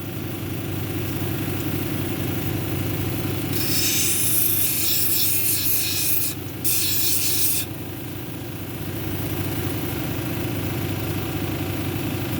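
A variolite cabochon is ground on a 220 grit wheel, with a steady motor hum running throughout and a brighter, harsh rasp of stone against the wheel for several seconds near the middle.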